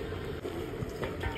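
Water poured steadily into a cooking pot for a village-style chicken handi, a continuous close splashing trickle running alone without talk.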